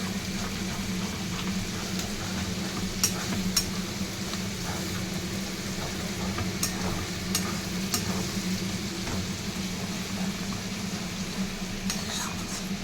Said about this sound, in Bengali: এরপর এগুলিকেও ভালো করে মিশিয়ে নেব সব কিছু